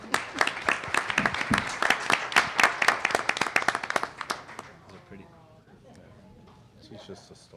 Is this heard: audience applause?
yes